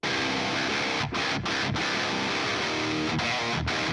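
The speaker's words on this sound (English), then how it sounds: "So let's hear how the 5150 sounds on its own." Heavy, saturated metal guitar riffing through a 5150 amplifier plays loud and dense, with a few sharp stops that leave brief gaps of silence before the chugging resumes.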